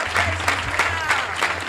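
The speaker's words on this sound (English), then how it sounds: "Another round of applause for Kamm Howard." An audience claps for a speaker at a reparations event, steady applause over a low hum, with a few louder clap bursts standing out.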